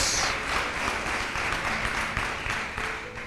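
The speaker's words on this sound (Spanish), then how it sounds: "¿Quieren aplaudir? Háganlo." Congregation applause fills a church, dense continuous clapping at fairly high level that gradually tapers off, with no voices over it.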